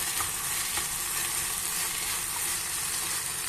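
Okra curry (bendekai palya) cooks in a pan as grated coconut is stirred in, a dense continuous sizzle filling the short stretch with faint stirring movement beneath it, close up and without speech.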